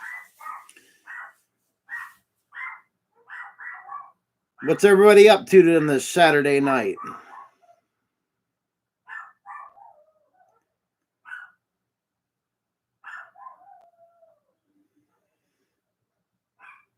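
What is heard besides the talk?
dogs barking downstairs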